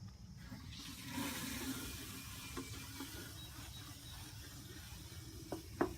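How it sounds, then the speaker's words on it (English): Water pours and splashes into a watering can holding dissolved fertilizer, a steady rushing stream with a few brief clanks near the end and no talk. "we'll add our water."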